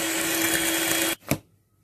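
An electric mixer whirs steadily as it beats egg yolks with sugar for a caramelized apple cake. The motor hums loud and constant, then cuts off abruptly, followed by a brief knock and silence.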